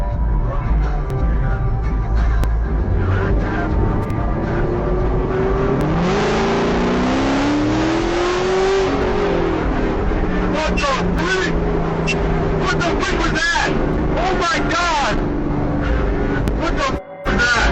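A sports car drives at night with a continuous close engine drone that swells as the car accelerates and revs. A voice talks over it throughout.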